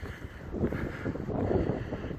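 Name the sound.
wind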